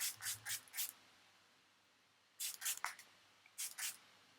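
A Ciate London Watermelon Burst setting spray is pumped in quick bursts: four short hisses, a pause, then another cluster of four and a final pair, close and fairly quiet.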